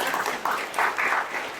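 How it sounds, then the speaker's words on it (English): Audience applause at a youth mental health town hall meeting, a short burst of scattered clapping in pulsing waves. "that deserves applause."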